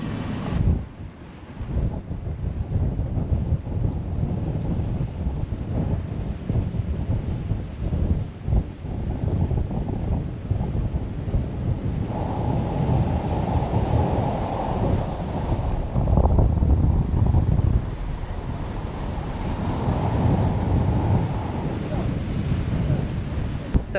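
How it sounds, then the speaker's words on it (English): Strong wind gusting and buffeting the microphone with ocean surf rolling in at the point where the Caribbean Sea meets the Atlantic Ocean in St. Kitts, a loud continuous roar with occasional voices underneath. "So we're at the point where the Caribbean Sea meets the Atlantic Ocean. It's very beautiful out here, very windy, but very, very beautiful."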